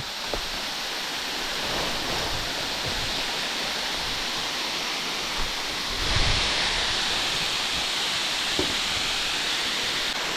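Steady broadband rush of a waterfall in a scenic natural setting, a continuous roar with a slight swell near the six-second mark and no voices.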